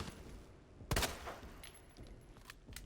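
Gunfire rings out in the survival horror video game Resident Evil 2 Remake, one loud sharp shot followed by several fainter, scattered shots and impacts over a low background.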